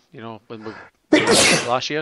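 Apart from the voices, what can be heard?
sneeze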